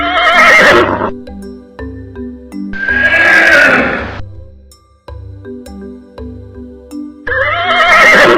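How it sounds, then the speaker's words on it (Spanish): A horse neighs loudly three times, each whinny a long, shrill, wavering call, with soft musical tones and quiet gaps between the calls. "Caballo."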